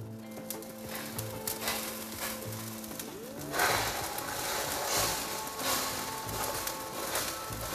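Eggs frying in a couple of teaspoons of oil in a Caraway pan, a steady close sizzle with soft scraping and stirring, rising a little partway through, with no talk.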